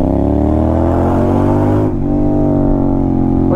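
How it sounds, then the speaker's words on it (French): Honda X-ADV scooter with a very loud aftermarket exhaust revs hard, a dense, raspy engine roar climbing in pitch with a brief dip between revs, close and alone. "je vais mettre le XADV le plus bruyant de l'univers"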